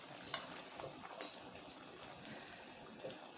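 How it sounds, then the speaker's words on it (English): Vienna sausages being stirred into a pot for Panamanian arroz con salchichas guisadas, a soft wet scraping and sloshing with faint sizzling, a couple of light utensil clicks against the pot, close and fairly quiet. "I'm going to mix it around a little bit."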